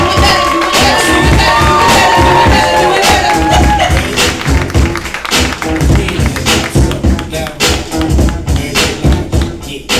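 A lounge audience at a poetry open mic claps and cheers for the featured poet, a dense wash of applause with shouts and whoops, loud and close at first, then thinning into scattered claps toward the end.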